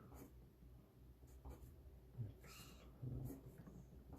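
Handwriting on paper while working through a math problem, soft continuous scratchy strokes in short bursts, quiet and close with no speech.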